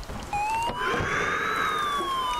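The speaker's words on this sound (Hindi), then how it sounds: "ये एम्बुलेंस वाली गाड़ी क्यों बोल रही है" In a horror video game, an ambulance siren wails with a rising, sweeping electronic tone that sounds fairly close and carries steadily over a low background hum.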